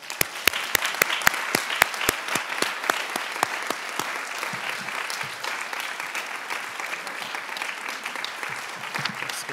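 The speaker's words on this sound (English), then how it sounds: "Joining me in giving her a round of applause." An audience applauds an award recipient at a UN ceremony. It opens with a few loud, distinct claps, then swells into steady, dense clapping from many hands that carries on evenly to the end.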